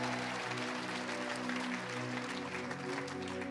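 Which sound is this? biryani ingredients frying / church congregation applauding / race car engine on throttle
church congregation applauding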